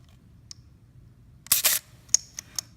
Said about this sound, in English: just gonna show you shutter again at 1/25.